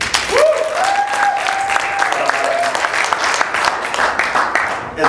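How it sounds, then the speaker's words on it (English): Wedding guests applaud with a sustained burst of clapping and a few cheers from a crowd indoors, and a voice over a microphone is heard at the start. "Round of applause for them,"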